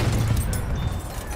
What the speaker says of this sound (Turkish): Patladı.